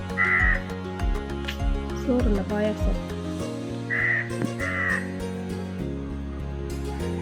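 Crows caw repeatedly near a house while eating rice offered during Pongal, with several harsh calls that come in short bursts and pauses, interleaved with a person speaking nearby.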